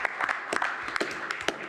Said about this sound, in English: If you guys could give him a round of applause.